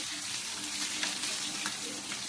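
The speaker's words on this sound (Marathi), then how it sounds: "लसणाने आणि हिरवी मिरचीने ते छान असं परतून घ्यायचं" Coarse garlic and green chili paste sautéing in oil for mango pickle, a steady close sizzle with occasional soft stirring scrapes and no talk.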